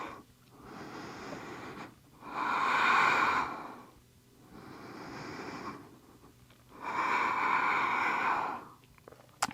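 Slow, deep breaths in a vinyasa yoga practice, two long breathy swells of inhale and exhale with quiet pauses between, close and steady, with no talking.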